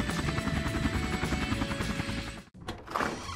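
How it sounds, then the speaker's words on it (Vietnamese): A helicopter summoned to carry a rich woman, its rotor chopping loudly and continuously close by, cutting off abruptly near the end before a brief different noise follows. "Mang trực thăng tới đây,"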